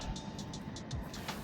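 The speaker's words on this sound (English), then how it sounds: "Car!" A car passes along a road at night during an amphibian migration survey, producing a steady, moderately loud rumble of tires and engine throughout, with no voices over it.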